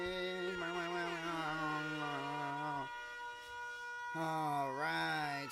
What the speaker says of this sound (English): so there's that siren again.